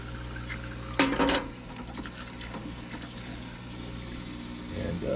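A JEGS portable parts washer pumps fluid over a batch of small parts, a close watery splashing and pouring with a louder burst near the start, then a steadier trickle under a low pump hum.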